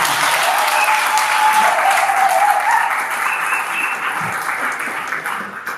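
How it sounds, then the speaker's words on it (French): Guests applaud at a civil wedding ceremony in Geneva, steady and sustained clapping from a crowd in a hall, with a few voices and whistles rising over it. "Veuillez applaudir pour le futur ministre."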